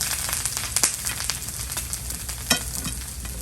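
Steady hissing sizzle of Korean-style grilled meat and mushrooms on a hot grill, with small crackles and pops rising through the dense, close sizzle.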